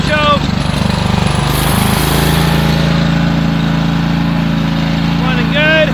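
A Wright Stander lawn mower engine with a newly replaced carburetor revs up to full throttle and holds a loud, steady drone close by, with a brief voice at the start.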